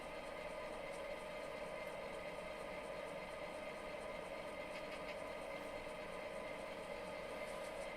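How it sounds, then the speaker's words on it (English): A model diesel locomotive idles with a steady, even hum as its air compressor runs and the prime mover holds a slightly raised, constant drone throughout. "you hear the air compressor kick on, and the prime mover notch up a little bit to turn the compressor at a faster rate"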